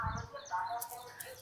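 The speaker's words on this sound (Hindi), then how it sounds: "चिड़ियों की आवाज़ें" Birds chirp and tweet in short bursts at moderate distance near the Lepakshi temple, with a voice speaking briefly underneath.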